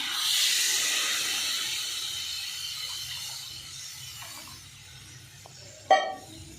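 Water poured into hot fish-head curry in a pan gives a loud, steady hiss that slowly fades over several seconds, followed by a sharp clack near the end.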